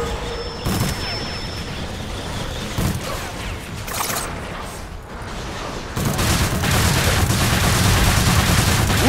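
Rapid bursts of gunfire from a team shooter video game, sustained and busy across the whole stretch, growing denser and louder toward the end with no voices over it.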